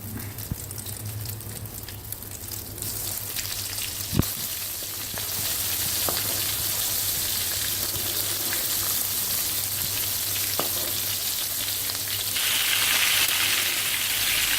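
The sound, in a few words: bitter gourd (karela) frying in hot ghee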